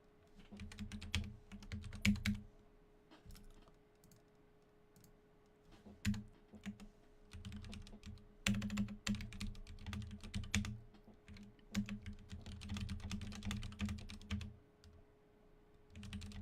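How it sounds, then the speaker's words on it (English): Fingers tap out notes on a computer keyboard in quiet, irregular bursts of close clicking keystrokes, with short gaps between runs of typing. "while I type that note"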